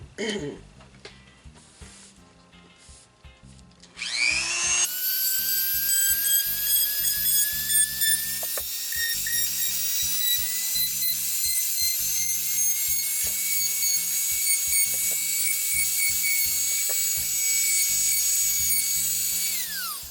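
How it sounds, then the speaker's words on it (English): A small Dremel rotary tool sanding the edge of a resin charcuterie board, starting after a few quiet seconds with a sharp high-pitched whine that holds steady and loud for the rest of the clip, grinding continuously against the edge. "I'm just going to run my little Dremel right around that edge there."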